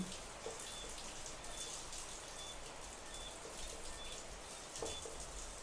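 Raindrops patter steadily and softly throughout, with faint bird chirps repeating in the background and no talk.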